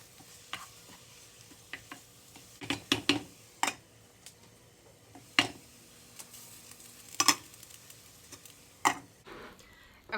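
Spinach wilting down in a pan, a quiet sizzle broken by scattered sharp clacks and scrapes of a utensil stirring, some in quick clusters, close and without talk.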